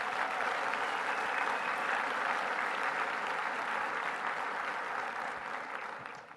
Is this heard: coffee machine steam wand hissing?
no